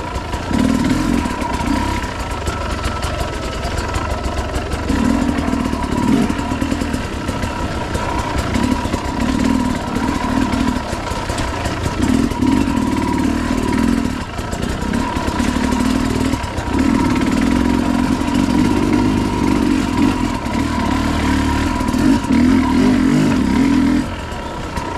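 A 2022 Sherco 300 SE Factory dirt bike ridden slowly over slippery ground, its two-stroke engine burbling steadily at low revs, swelling and easing in repeated pulses as the clutch is feathered.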